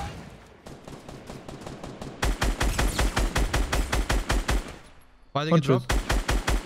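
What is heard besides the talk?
gunfire in the video game Fortnite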